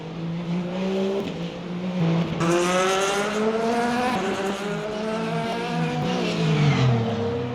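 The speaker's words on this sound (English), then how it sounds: "Big lock up there on the brakes, and I believe that is on all 4." A race car in the Le Mans Ultimate video game brakes hard and locks up, with a loud engine drone dropping in pitch over tire squeal and skidding throughout, no talking.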